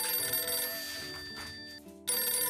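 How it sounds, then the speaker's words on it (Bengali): A telephone bell rings indoors in a Bengali TV drama, a bright electronic ringtone with sustained tones that cuts off briefly near the end and then starts again, loud and close. "আমার ফোনটা বাজছে, আমি কথা বলে আসি।"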